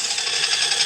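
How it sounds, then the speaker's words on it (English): A brief, steady high-pitched whir of a power drill boring a hole into wood, close and fairly loud, with no talking. "So I gotta drill a big enough hole for this first."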